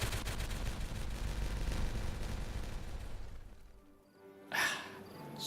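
An explosion in a video game sets off a loud, broad rumbling roar that swells and then fades away over about four seconds. A brief louder burst follows near the end.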